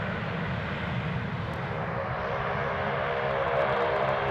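Loganair Saab 340 turboprop airliner at Glasgow airport, a steady broad engine roar holding at even loudness throughout, with no voices.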